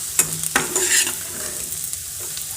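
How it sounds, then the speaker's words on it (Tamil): Onions sautéing in a pan for a roasted onion chutney: a close, steady sizzle with scraping stir strokes and light clinks of a utensil against the pan, no voices. "இப்போ வெங்காயம் பார்த்திங்கன்னா நல்லா வதங்கணும்"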